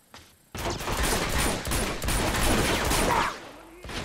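Dense gunfire from the video game Uncharted 2: Among Thieves, set in Borneo, a loud sustained burst of rapid shots and impacts that starts abruptly and runs for several seconds before dropping away.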